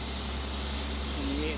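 Compressed air hisses steadily from an open drain valve on an air tank in a garage, a broad continuous rush that stays close and even from start to finish.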